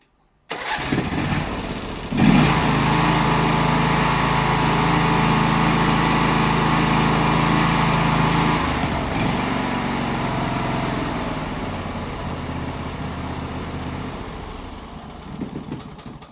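A used Razor mower engine cranks and catches, then runs loud and close at a steady rev for several seconds before easing to a lower, rougher idle and cutting off near the end.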